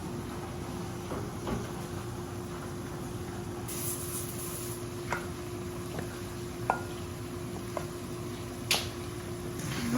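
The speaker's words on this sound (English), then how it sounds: "now we're gonna add our sauce, one of them, known as the pork sauce, onto the pork" Pork sauce of scallion whites, garlic, red pepper flakes, soy and hoisin hits pork frying in a pan, giving a steady soft sizzle with occasional light clicks and stirring noises.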